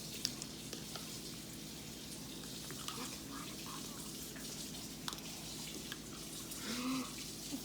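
Liquid bubbling and fizzing in a pastel color experiment, a soft continuous crackling hiss with faint pops, fairly quiet and steady throughout.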